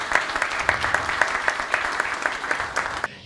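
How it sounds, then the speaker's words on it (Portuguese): Audience applause at a Brazilian political event, a steady patter of many hands clapping at moderate distance, with a fairly even rhythm that stops abruptly at the end. "a quem eu peço também uma calorosa salva de palmas"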